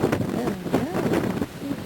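Gusting wind buffets the microphone at a yacht club on an Eastern Canada waterfront, a steady low roar with rougher swells, while faint voices murmur underneath.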